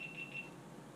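A GoPro camera sounds three quick, thin electronic beeps like an alarm in a kitchen during food prep, close and fairly quiet, then stops, leaving faint room noise.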